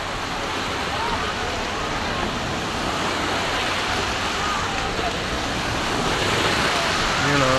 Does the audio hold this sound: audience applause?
no